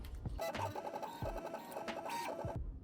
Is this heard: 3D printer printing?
yes